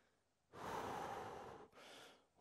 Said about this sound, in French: On essaye de respirer profondément.